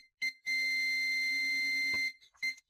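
A multimeter in continuity mode beeps while probing a MOSFET: a short tone, then a sustained steady electronic beep of about one and a half seconds, then another short beep, clean and alone.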